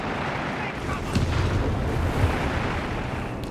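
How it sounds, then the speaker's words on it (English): Panther tank gun fire in a Company of Heroes 3 battle, loud booming shots within a dense, continuous rumble of combat noise. "Panther gun, they're firing away."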